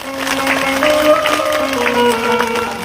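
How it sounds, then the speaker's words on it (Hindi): An audience at a Hindu devotional katha claps in steady rhythm, moderately loud, alongside sustained singing and instrumental tones. "थोड़ा ताली बजा लो यार"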